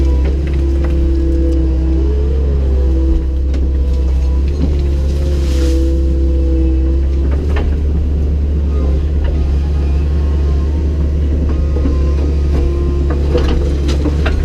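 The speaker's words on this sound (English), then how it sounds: "Back over the road part with the blade, getting it all in a very consistent manner before I put the gravel on it." Heavy machinery with a blade grades a dirt dam road before gravel goes down, a steady loud diesel engine drone with a low rumble and faint scraping throughout, no talking.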